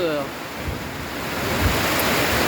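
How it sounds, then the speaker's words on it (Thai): A wind and rain storm roars as a loud, steady rush of broad noise with low buffeting gusts, close and continuous throughout. "ทั้งลมทั้งฝน"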